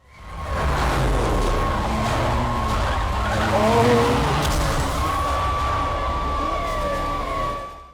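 A movie car swerves at speed with a sustained roar and squealing tires that rise and bend in pitch, staying loud from start to finish before cutting off.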